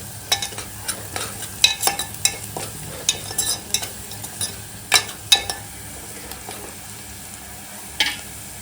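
Masala is stirred into onions frying in a pan for a prawn dish, with a steady sizzle under repeated scraping and clinking strokes of a spoon at an uneven rhythm.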